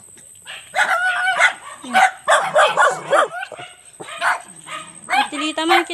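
Several dogs bark and yip in excited bursts, close by, overlapping one another, with a rooster crowing among them.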